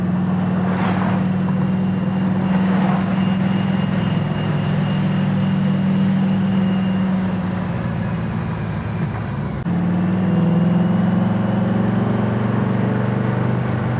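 Steady engine drone and road roar from inside a 1963 Chevrolet Nova convertible with a 350 engine at about 65 mph, continuous and fairly loud, with a brief dip near the end.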